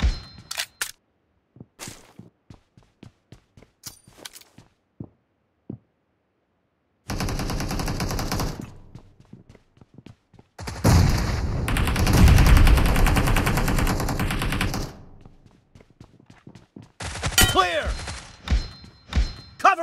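Gunfire from the mobile video game PUBG Mobile: scattered single shots and thuds, then sustained loud automatic bursts separated by short silent gaps, with a few game sound effects near the end.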